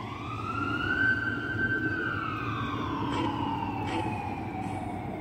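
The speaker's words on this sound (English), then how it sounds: "You hear that siren?" A wailing siren rises and falls slowly over a low engine rumble, fairly close and sustained throughout.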